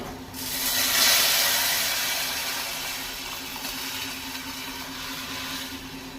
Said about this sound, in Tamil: இப்போ நம்ம புளியும் தக்காளியும் கரைச்சி வச்சுருக்கோம்ல, அதை இதில் ஊற்றிடலாம்.